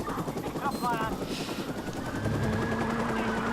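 A helicopter in the video game Watch Dogs thrums during a police chase, its rotor drone mixed with bursts of game gunfire and a steady engine tone, while someone talks excitedly over it.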